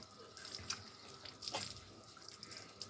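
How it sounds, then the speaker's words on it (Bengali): Water runs and drips from an opened tap while a cow drinks from it outdoors in hot weather, a soft, close, uneven trickle with light splashes. "গরুটার এত কষ্ট হচ্ছে নিজেই জলের কলের মানে কলটা খুলে জল বের করে দেখো খাচ্ছে"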